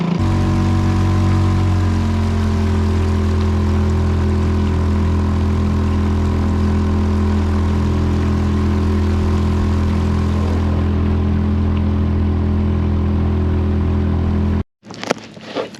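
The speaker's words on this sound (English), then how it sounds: "we made it out to our spot in record time with this little outboard here" A small outboard motor pushes a kayak during a catfish tournament, a loud steady engine drone with a constant pitch that runs unbroken and alone for nearly the whole stretch, then cuts off abruptly near the end.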